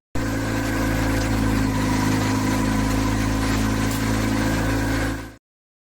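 A Honda Civic 1.5T engine (L15B) being modified with stainless steel for an aircraft runs at a steady, loud, close idle with a constant drone before cutting off abruptly at the end.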